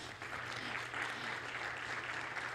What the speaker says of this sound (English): So please give them a massive round of applause.